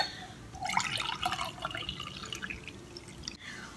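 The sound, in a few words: pouring boiled fat cutter drink into a glass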